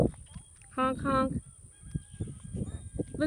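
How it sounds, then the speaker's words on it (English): Geese honk nearby in a couple of loud nasal calls, over a soft background of smaller calls and a faint steady high hum. "So here's the duckies and the geese."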